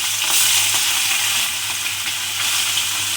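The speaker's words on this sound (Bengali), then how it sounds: "এইবারে আমি তেলের মধ্যে মাছগুলো দিয়ে ভেজে নেব।" Fish sliced for a sour fish ambal fries in hot oil, giving a loud, dense, continuous sizzle and crackle close to the mic, with no talking.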